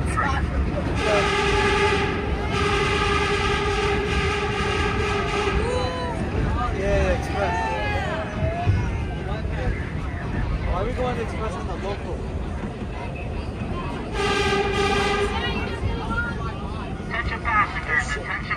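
A New York MTA subway train rides between stations on the line toward 96th Street, with a loud continuous rumble and rattle of the cars, squealing wheels and an onboard electronic chime and tones.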